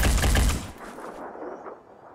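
A soldier in the video game Phoenix Point fires a loud, dense burst of gunfire that cuts off within a second, leaving a fading rumble and faint background tone.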